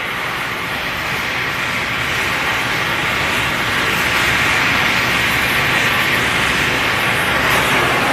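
An oxy-propane cutting torch preheats 1-inch-thick steel plate, giving a loud, steady, broadband hissing roar that holds unbroken from start to finish with no talk.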